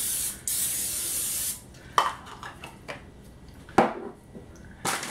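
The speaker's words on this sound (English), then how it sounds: "I spray the sides and the bottom really good" Cooking spray hisses from a can onto a baking dish in a kitchen, a long burst followed by several short spritzes, close and clear.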